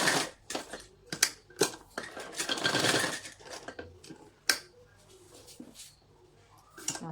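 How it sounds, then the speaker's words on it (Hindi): Domestic sewing machine stitching the sleeve seam of an A-line suit, heard as bursts of rapid mechanical clatter separated by short pauses, with one longer continuous run in the middle, close and moderately loud. "ये बाजू की सिलाई मैंने लगा ली है"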